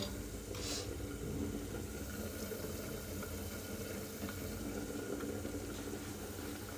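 A steady, close bubbling and churning of water at a rolling boil in a cooking pot, continuous throughout with no talking.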